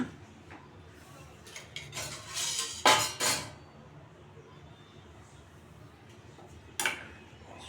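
A cooking pot gets covered with its lid while palak gargati (spinach curry) is cooking, giving a couple of loud metallic clanks in quick succession, then a later single knock, amid faint kitchen clatter.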